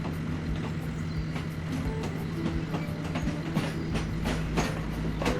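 A video game toy train rumbles along with a steady hum and irregular clicking wheel sounds, continuous throughout.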